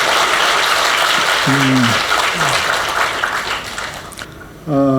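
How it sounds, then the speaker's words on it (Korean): Loud applause from an audience at a Buddhist meditation lecture fills the room, with a voice briefly heard over it; the clapping fades out and someone starts speaking. "큰 박수로 감사하겠습니다."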